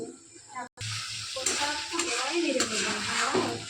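Meat for kosha fries and is stirred in a pan, giving a loud, close sizzle with scraping. A short gap breaks it early, and it then continues steadily while a voice talks in the background.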